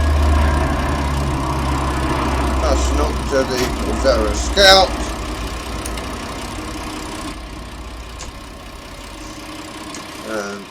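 The old 946 tractor in a farming video game idles with a steady low mechanical hum that runs throughout, while someone talks over it.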